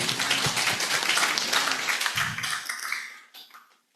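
Audience applause for two guest lecturers at an international general lecture, a dense burst of hand clapping that stays strong for a few seconds, then thins to scattered claps and fades out.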